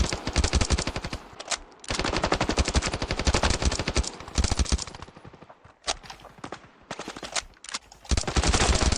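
Automatic gunfire in the mobile shooter Standoff 2: long rapid bursts of loud, close weapon fire, broken by brief pauses and a few shorter bursts.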